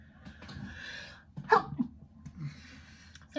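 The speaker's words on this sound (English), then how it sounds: "I'm going to sneeze, you have to bear with me." A person sneezes once, loudly and close, between quieter breathing and faint background noise, followed by a short voiced sound.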